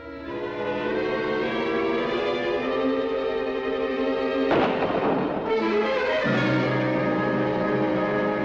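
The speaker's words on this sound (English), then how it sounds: "You better be careful where you're shooting" A single sharp gunshot with a rolling echo in a forest, heard loud midway through a sustained musical drone.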